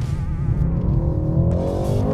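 A 2020 Mercedes-AMG C63 Coupe accelerates hard, its engine note climbing steadily and loudly through the revs in a continuous rising roar.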